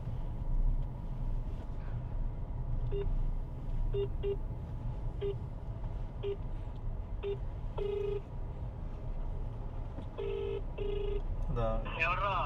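A telephone rings over a speakerphone with short repeated electronic tones, faint beneath a car's steady hum and some talking near an airport.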